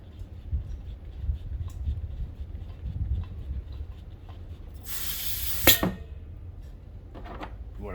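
A one-pound propane bottle valve releases a short, sharp burst of hissing gas while purging excess air, loud and close against a quiet, faint background rumble.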